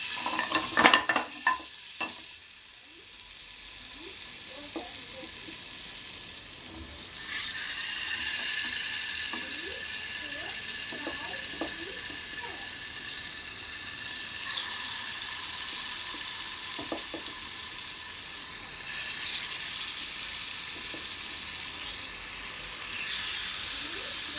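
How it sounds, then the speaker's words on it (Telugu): Paneer tikka pieces fry in a couple of spoons of hot oil in a pan, a steady close sizzle that builds after a few clunks at the start and continues with occasional scrapes and no voices. "ఇప్పుడు ఒక ప్యాన్ పెట్టుకుని రెండు స్పూన్లు నూనె వేసుకున్నాను వేడెక్కింది ఇప్పుడు ఒక ముక్క వేసుకుని వేసుకుందాం"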